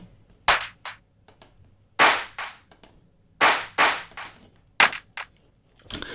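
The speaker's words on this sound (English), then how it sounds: "The claps are really big and layered" Big layered electronic clap samples triggered from a drum rack, alternating patterns of sharp bright hits with short decaying tails, about a dozen claps spaced irregularly over near-silence.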